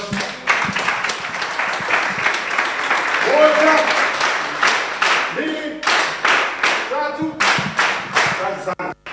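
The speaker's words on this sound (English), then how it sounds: "A round of applause." Lecture audience at a memorial lecture breaking into a round of applause, sustained dense clapping that builds then thins into scattered claps, with a voice speaking over it partway through.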